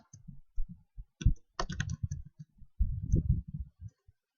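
Irregular clicks of a computer keyboard as a word is typed into a PowerPoint presentation, close and crisp, in short uneven bursts.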